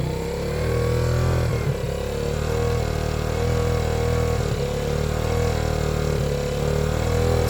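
A Yamaha Grizzly 80 ATV engine idles with the choke on, a steady, continuous low mechanical drone with a few slight dips, close by and unbroken, no talking.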